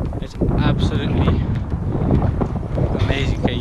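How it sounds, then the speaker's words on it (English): Heavy wind buffeting a microphone, a steady low rumble with gusts, while a voice talks faintly underneath. "you probably won't be able to hear me now because the wind's so bad"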